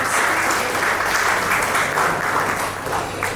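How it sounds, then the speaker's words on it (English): Audience applause for award winners at a literary festival in Hyderabad, a dense steady wash of many hands clapping throughout, fairly loud and continuous. "A huge round of applause for all of us."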